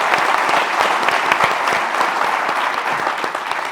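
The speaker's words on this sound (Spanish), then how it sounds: "un aplauso para los dos por estar de nuevo con nosotros" A studio audience gives loud, dense applause for two guests on a panel discussion show, with steady, close clapping throughout.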